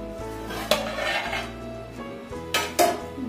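A metal lid clanks down onto a pot of Kolkata-style egg biryani, with sharp metallic clinks and scrapes of cookware close by and no talking.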